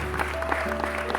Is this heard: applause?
yes